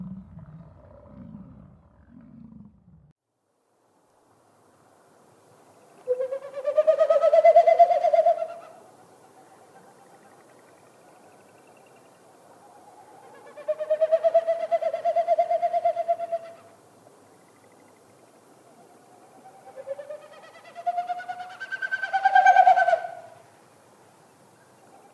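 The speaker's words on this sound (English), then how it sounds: "What you heard is a Wilson snipe doing its territorial sound, but it's made with its wings and its tail." Three breathy, tremulous whoosh bursts a few seconds apart, faint and far off in quiet open air: the winnowing flight display of a Wilson's snipe in Yellowstone National Park, produced by its wings and tail rather than its voice.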